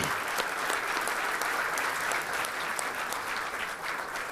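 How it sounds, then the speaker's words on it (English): A gala audience claps steadily in a broad, even round of applause that holds at a moderate level throughout, with no voices standing out. "So let's give them another round of applause."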